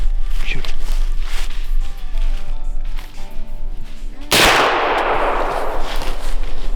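A single sharp rifle-like crack rings out during a deer hunt, followed by a long decaying echo across open ground, with faint rustling and movement before it.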